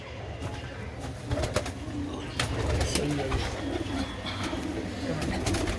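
Pigeons coo in a loft, soft repeated throaty coos up close with faint rustling and some background noise around them.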